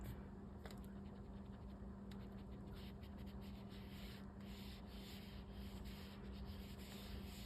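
A brush rubbing ink around the edges of a handmade Halloween card, a soft continuous scratchy rubbing with quick repeated strokes over a faint steady hum, close and quiet.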